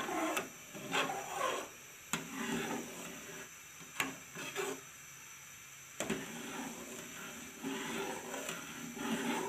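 A spoon stirring and scraping milk in a pan over a high flame while it reduces to khoya, with repeated rasping scrapes and soft clicks against the pan, close and moderately loud, no talking.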